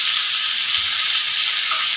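Chicken hits a hot pan and sizzles loudly and continuously, a bright steady hiss of frying at close range with no talk over it.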